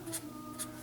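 Two quick, faint scratchy strokes of a pen writing numbers during a fourth-grade math lesson, close over a low steady room hum.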